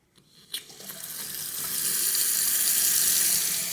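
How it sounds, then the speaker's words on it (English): Water gushes steadily from a Moen bathroom faucet after a few clicks and knocks, the hiss building and then holding constant. "Turn the water on and let it run for at least 1 minute."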